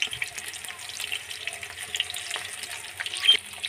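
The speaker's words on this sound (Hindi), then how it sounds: "ये देखिए हमारे जो है कटहल फ्राई हो चुके हैं" Jackfruit pieces coated in gram flour batter fry in hot oil, a soft, hissing bubble with scattered crackles and pops, moderately close and continuous, no talking.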